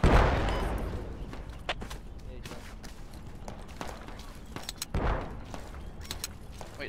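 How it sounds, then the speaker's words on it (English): Mortar fire in the video game Project Reality: a heavy booming impact opens, then another thump follows a few seconds later, with scattered gunfire cracks and muffled footsteps in between, and voices talking under the noise. "Mortars are getting close."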